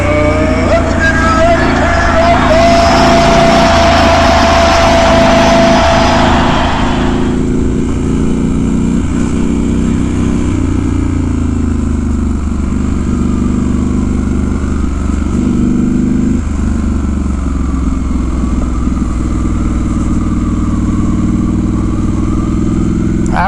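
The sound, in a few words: Triumph Scrambler 1200 XE motorcycle riding off-road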